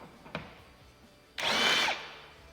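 A power tool spins briefly to remove screws on a 2022 C8 Corvette, giving one close, loud whirring burst of about half a second after a faint click.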